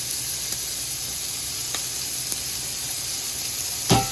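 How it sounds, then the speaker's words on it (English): Rendered bacon drippings sizzle in a pan before collard greens go in, a steady close hiss broken by a few sharp pops and clicks. "I'm going to add a little more of our bacon drippings right in"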